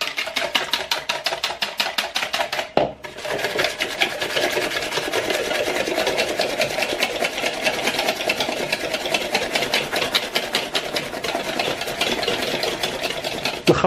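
Milk and cornstarch custard mixture is whisked fast and steadily in a bowl, giving a loud, rapid rhythmic scraping with one brief pause early on.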